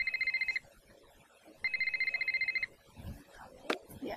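A telephone rings in the horror game Ghost of Thornton Hall, giving two bright electronic trilling bursts separated by a pause, followed by soft background noise and a sharp click.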